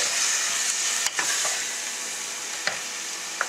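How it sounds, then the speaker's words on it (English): Tomato puree going into mashed sag in a hot pan, heard as a steady close sizzle and frying hiss throughout, with a few sharp clicks of a utensil against the pan. "And to it we add the tomato puree."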